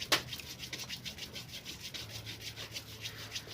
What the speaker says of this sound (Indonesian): menggunakan amplas yang 2000 supaya si lebih halus, betul-betul halus gitu ya, supaya membran itu tidak bocor